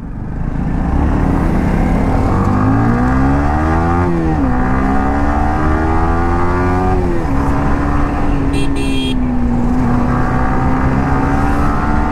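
Engine noise from vehicles crawling in a traffic jam on a small, narrow road, with a steady loud rumble and engine tones rising and falling as vehicles rev and move close by; no talk.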